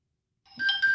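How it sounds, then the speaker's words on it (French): A phone rings during a fishing tackle tutorial on tying a leader, a short electronic ringtone that starts after a moment of silence and rises to a steady, moderately loud tone. "désolé pour le bruit du téléphone qui sonne."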